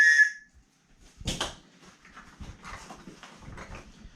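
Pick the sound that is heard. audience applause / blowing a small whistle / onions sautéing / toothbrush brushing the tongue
blowing a small whistle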